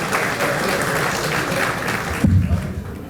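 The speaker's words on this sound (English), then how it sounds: "give the people from Title III a big round of applause" Audience at an annual homecoming donors banquet giving a round of applause, a dense, lively clapping that fades out sharply toward the end as a low voice begins.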